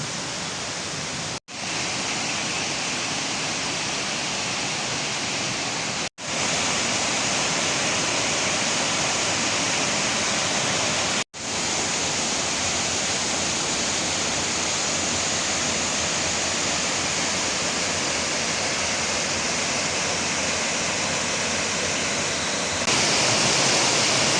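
Steady, powerful roar of a tall two-tier waterfall fills the whole stretch, loud and constant, with a few brief dropouts and no voices.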